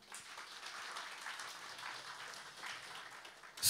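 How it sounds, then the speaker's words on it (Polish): Moderate audience applause at an oriental dance show, a steady patter of clapping from a hall that holds level, then a sharp burst at the very end. "tu pierwsze brawa."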